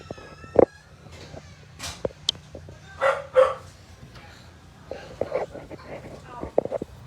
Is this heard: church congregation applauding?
no